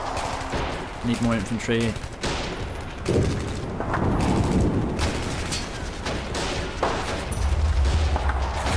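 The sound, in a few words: sniper gunfire in the video game Men of War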